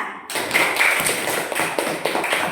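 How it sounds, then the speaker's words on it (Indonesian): Students in a multigrade classroom give a pupil a round of applause, a close, dense patter of many hands clapping at once, lasting a couple of seconds without talk. "beri tepuk tangan untuk Nadira"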